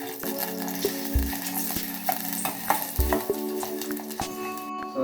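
A full clove's worth of garlic sizzles gently in oil in a pan for pav bhaji, with a spoon scraping and tapping the metal at intervals and a steady hum behind it, no voices.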